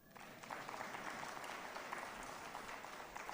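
An audience at the launch of an election strategic plan claps in faint, distant, continuous applause lasting a few seconds.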